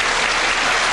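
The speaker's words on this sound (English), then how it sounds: "he's getting a big round of applause, Mark Jarvis is, for a gallant battle" Loud, dense applause from the crowd at the 1995 World 8-ball pool championship, a steady wash of clapping that fills the whole moment with no talk over it.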